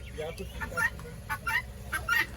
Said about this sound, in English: These are ducks.